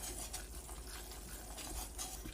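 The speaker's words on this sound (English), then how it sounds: "My butter and flour has been cooking for a few minutes." A butter and flour roux cooks in a pan, giving a steady, soft sizzle and stirring hiss that stays even throughout, with faint utensil scrapes and no voices.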